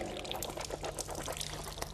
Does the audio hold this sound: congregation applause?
no